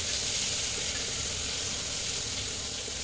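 Finely chopped onions frying in oil while being stirred, a steady broad sizzle holding constant and close throughout with no speech, for a Tamil-style cauliflower biryani cooked in a pressure cooker.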